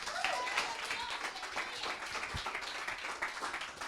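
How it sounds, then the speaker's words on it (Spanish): A church congregation applauding at a worship service, broad dense clapping with some voices mixed in, steady throughout. "Dale un aplauso al Señor."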